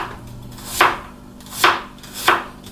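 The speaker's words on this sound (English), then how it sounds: "So nice and steady, just slice down your onion." Knife slicing down through an onion on a chopping board, three crisp, evenly spaced cuts, each a sharp thunk with a short crunch, close and alone.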